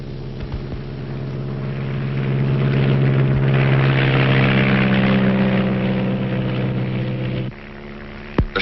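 A small propeller plane drones in flight over rainforest, a steady engine hum with a throbbing propeller beat that swells louder midway, then drops off near the end.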